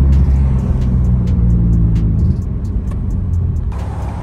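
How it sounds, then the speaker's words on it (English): A Nissan car engine with aftermarket motor mounts idling at a stoplight, a steady loud low rumble heard from inside the cabin, with a slight drop in level midway. "Just idling here at a stoplight"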